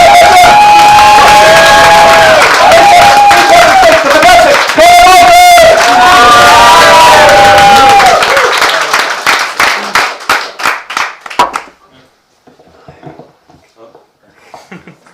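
A stand-up comedy audience cheers, whoops and claps loudly together, with shouting voices over the din, before the noise breaks into scattered claps and dies away to near quiet.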